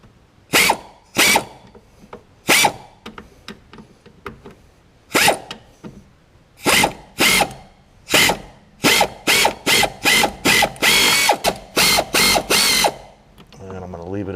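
Nuts on a car's power brake booster are loosened with a ratchet wrench, sharp clicking bursts in quick close series separated by short pauses, growing faster toward the end.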